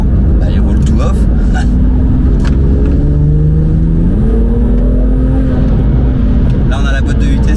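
Inside a BMW M2 Competition fitted with KW coilovers, the engine drones and rises steadily under acceleration, pitch climbing through the gear, a loud, continuous rumble with a person talking over it throughout.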